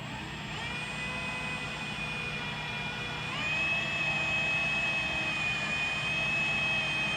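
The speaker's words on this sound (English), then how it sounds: "So let's get these holes drilled." Electric drill boring 3/16 inch holes through square steel tubing, a steady high motor whine with a faint grinding undertone that grows slightly louder midway, close and without talking.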